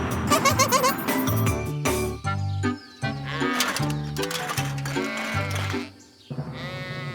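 Cartoon sheep at a fluffiest-sheep contest bleat in a loud chorus of wavering baas, several overlapping calls with short pauses, mixed with light jingling.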